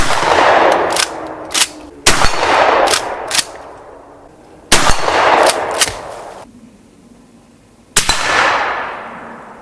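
Mosin Nagant rifle rounds strike steel MT Target gong plates hung on a rebar fixture. Several loud, sharp metallic impacts ring out, each followed by a bright, slowly decaying ring, with no voices.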